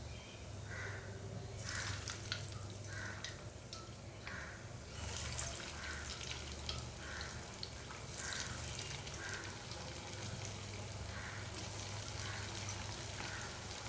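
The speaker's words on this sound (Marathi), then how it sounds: "आता आपण हे एवढा तपकिरी कलर होईपर्यंत भाजायचे, जास्त लाल नाही करायचे." Upvas kachori, coated in vari rice flour, frying in hot oil in a wok: a steady, close crackling sizzle with bursts of spitting bubbles that continues throughout, with no talk.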